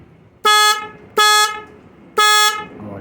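Stock vehicle horn wired through a newly installed relay, sounding three loud, steady honks of about a quarter second each, evenly spaced, close to the microphone, with faint background noise between.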